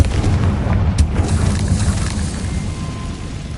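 A Confringo blasting spell explodes in the Hogwarts Legacy video game, giving a heavy, rumbling boom with crackling bursts that slowly fades over a few seconds.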